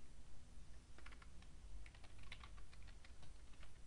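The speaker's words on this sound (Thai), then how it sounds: "ผมจะลองพิมพ์คำสั่งอันนี้ไปดูแรก" Quiet, rapid clicking of keys as a command is typed on a computer keyboard, an uneven run of taps over a constant hiss of background noise, close and soft with no talking.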